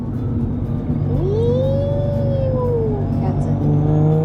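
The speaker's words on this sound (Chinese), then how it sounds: "哦，那个 turbo 声，" A 550 hp Toyota Supra accelerates with a loud, steady engine drone and a rising, then falling turbo whistle over a deep rumble, with people talking inside the car.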